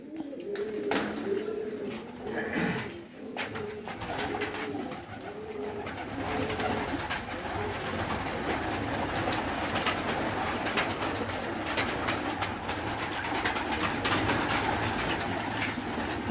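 Pigeons on a rooftop loft cooing repeatedly at close range, with soft rhythmic calls over a wash of outdoor background noise and some faint voices in the distance.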